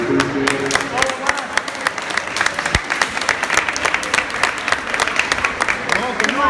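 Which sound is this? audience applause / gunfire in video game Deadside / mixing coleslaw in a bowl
audience applause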